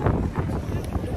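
Strong cold wind blows at the Eiffel Tower in Paris, a rough low rumble buffeting the microphone throughout a brief moment.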